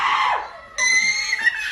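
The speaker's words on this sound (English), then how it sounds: "And then screams in his face." A person in a Halloween mask screams loudly into a little boy's face at lunchtime. The scream is shrill and close, with two long piercing bursts separated by a brief drop.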